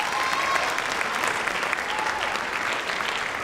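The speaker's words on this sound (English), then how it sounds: "Round of applause." A school spring concert audience in a hall gives a round of applause for students standing up, dense continuous clapping with some cheering voices mixed in.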